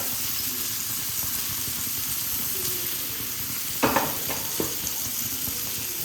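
Chicken breast roasts in a pan with a steady, close sizzle and a few brief louder crackles or stirs near the middle, with no one talking.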